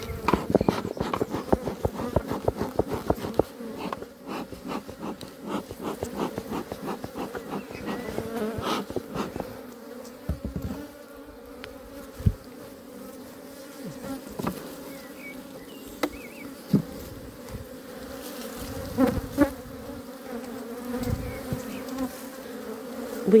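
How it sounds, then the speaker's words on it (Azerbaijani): Aggressive honeybees swarming at an open hive in a garden apiary, a dense, loud, continuous buzz with individual bees zipping close past, while a beekeeper talks and handles frames with occasional knocks. "Bu yeşildəki arılar məndə vəhşi idi. Yəni çox aqressivlər bunlar."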